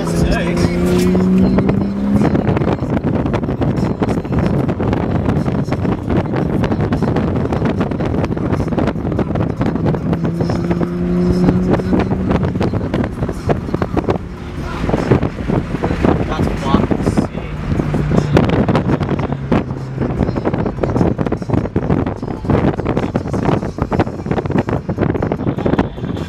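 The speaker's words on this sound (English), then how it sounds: "Cars on track, bro. Sick." Several cars race past on a track at a charity cruise event, engines revving and roaring loud and steady throughout with wind buffeting the microphone, and voices talking over the noise.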